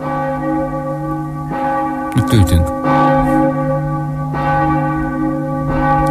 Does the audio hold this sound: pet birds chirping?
no